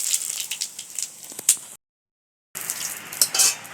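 Whole cumin seeds and two bay leaves hit hot oil as a tempering for a vegetarian dal, giving a steady close sizzle with light crackles. The sizzle cuts out briefly, then resumes just as strongly.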